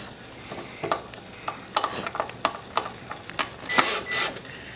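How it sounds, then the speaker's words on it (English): Screws being backed off during assembly of a kitchen base end shelf, heard as a close run of irregular short ratcheting clicks and scrapes from a screwdriver, with small pauses between bursts. "I'm just going to back these screws off a little bit"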